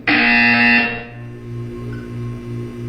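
A loud electronic buzzer blares briefly in the video game Portal 2, a harsh tone that cuts off after under a second and leaves a low hum pulsing underneath.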